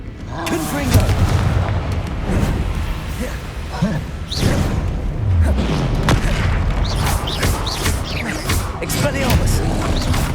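Repeated booming Confringo blast spells in Hogwarts Legacy, cast in a fight near a troll, loud and close, each whooshing into an explosive impact amid other combat sounds.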